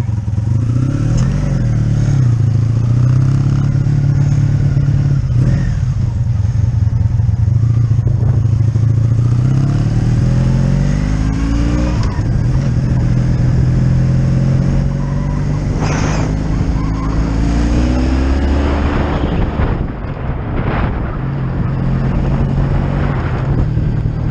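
A 1985 Honda V65 Sabre 1100cc motorcycle roars steadily on a road test ride, its engine pitch climbing and dropping through repeated gear changes and throttle swells, loud and close with wind rush underneath.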